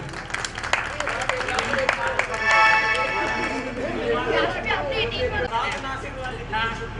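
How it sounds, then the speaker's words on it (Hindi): An audience claps at a devotional bhajan event, with a patter of applause early on that fades beneath someone speaking loudly into a microphone. "देखिए कुछ और जोरदार तालियां तालियां बजा दीजिए।"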